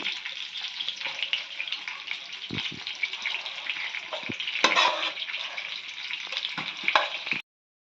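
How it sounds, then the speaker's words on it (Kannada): Bangude mackerel fish sizzle in a frying pan, a soft, steady hiss dotted with a few light clinks and one louder flare, before the sound cuts off abruptly. "ಹಾಗೆಯೇ ಮೀನು ಫ್ರೈ ಆಗ್ತಾಯಿದೆ ನೋಡಿ"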